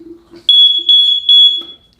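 A Segway GT2 electric scooter's lock alarm beeps loud and shrill, a quick string of about five close tones in rapid succession.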